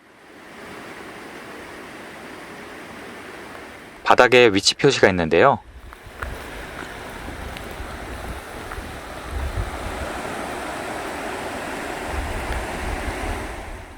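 Rushing water from the Goseultan waterfall in a mountain valley in Gyeonggi-do, said to resemble the sound of a geomungo zither, roars steadily and close throughout, with a short stretch of speech over it near the middle.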